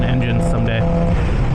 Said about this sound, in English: there's a 350cc 1967 Yamaha YR1 two-stroke sport bike